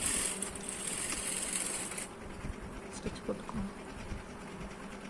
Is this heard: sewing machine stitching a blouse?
yes